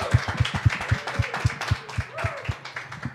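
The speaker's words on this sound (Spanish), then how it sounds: "recibir con un fuerte aplauso a Yucatán a Gogo" Steady, evenly spaced claps from an audience welcoming a guest at an interview gathering held in a pizza restaurant, about three or four a second, with voices talking over them throughout.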